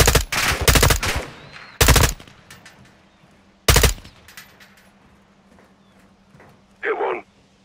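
Loud bursts of gunfire from the video game Call of Duty: Modern Warfare 2 (2022) campaign, several heavy volleys in the first four seconds, then a quieter background and one more short burst near the end.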